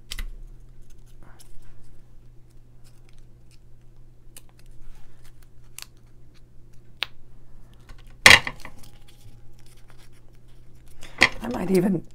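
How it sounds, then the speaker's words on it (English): Scissors cut the center out of a paper sticker, a few quiet snips and rustles of paper, then a couple of louder crinkles near the end, heard close in an otherwise quiet room. "I think I'll cut that center out of that."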